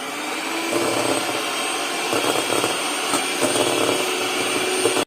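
An electric mixer whirs steadily and loudly as it whips egg whites with a pinch of salt for a charlotte sponge, a continuous high motor drone with slight wavering and no talk.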